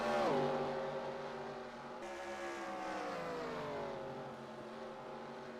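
A stock car revving through burnouts in the NASCAR Racing 2003 sim, its engine tone sliding down and climbing again in long sustained pitch sweeps, heard alone at moderate level.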